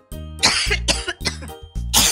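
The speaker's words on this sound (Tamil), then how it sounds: "அதுல வந்த புகையினால அவங்களுக்கு இருமல் வந்துருச்சு." Cartoon characters cough from campfire smoke, four harsh, close bursts of coughing in quick succession with short gaps between, loud and alone.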